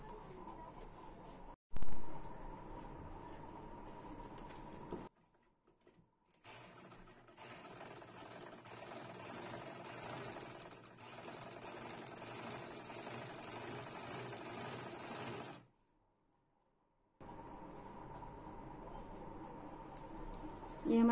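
A sewing machine stitches fabric in a steady mechanical whir that runs in separate bursts of several seconds, broken by pauses, heard close and fairly quiet with a bump near the start.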